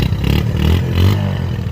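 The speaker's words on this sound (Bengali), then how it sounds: "সাউন্ড দিয়ে শুরু করলাম তো তাহলে ডিসকভারের যে সাউন্ডটা থাকে" A Bajaj Discover 135 motorcycle engine revs loudly up and down, close by, with a steady low throbbing and rising pitch sweeps and no voices.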